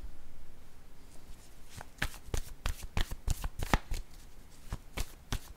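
A deck of tarot cards is shuffled and cut by hand for a reading, with a soft steady riffle first, then a run of crisp irregular slaps and flicks, close and faint, with no talking.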